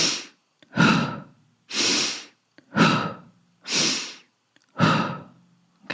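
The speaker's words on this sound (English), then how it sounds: "This is a forceful inhale through the nose and forceful exhale out the mouth." Forceful breathing in a breathwork session, sharp inhales through the nose alternating with forceful exhales out the mouth, about seven close, loud breaths in a steady rhythm with short pauses between, no talking.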